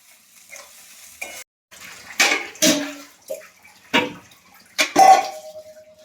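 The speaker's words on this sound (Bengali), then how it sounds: "তারপরে এখানে হলুদ দিয়ে দেবো একটু, দিয়ে এখানে মশলাটাকে কষাবো।" Spice paste with turmeric is stir-fried in a pan, heard as irregular bursts of scraping and sizzling separated by short quiet gaps.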